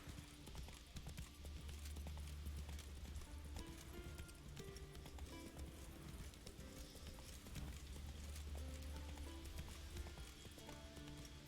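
Roach the horse galloping in The Witcher 3, rapid rhythmic hoofbeats continuing steadily throughout, with faint game ambience and light mechanical rattling beneath, no talk.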